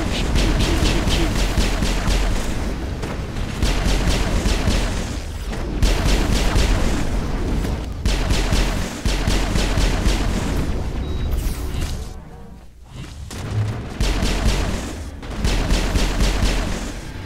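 Weapons fire in the Mass Effect video game on the planet Ilos, heavy sustained bursts of booming shots that run almost continuously, with a brief lull near the end.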